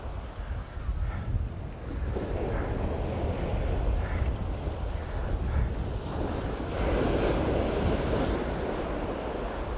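Sea waves wash continuously onto a beach at Withernsea on England's east coast, a steady rushing surf with wind buffeting the microphone, no voices.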